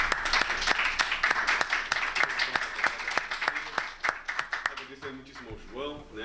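An audience at an academic debate event on civil disobedience gives a speaker a round of applause, with sharp individual claps standing out over a steady patter that thins toward the end as voices begin to talk.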